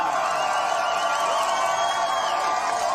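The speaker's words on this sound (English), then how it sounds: "if you are here and supporting the challenger, Jaime Munguia, let's hear it from you." Crowd at a boxing weigh-in for the Canelo vs. Jaime Munguia fight, sustained loud cheering and whooping from a big gathering, a dense continuous roar filling the whole stretch without a break.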